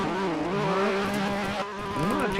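A Toyota A90 Supra's engine in a virtual drift video game revs and bounces off the limiter, with rising and falling pitch sweeps at moderate volume and no talking.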